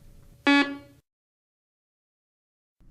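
A walk-through security metal detector being switched on gives one short, loud buzzer tone, after which the low background drops into near silence.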